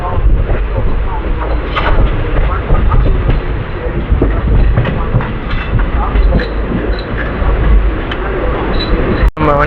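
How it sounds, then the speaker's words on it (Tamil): MGR Chennai Central–Mangalore train passing a moving special train hauled by a WAG-9 locomotive, a steady loud rumble of rolling wagons throughout with continuous onboard noise, ending in a brief sharp burst. "நம்ம எம்ஜிஆர் சென்னை சென்ட்ரல் மேங்களூர் வண்டி வந்துட்டு இருக்கு"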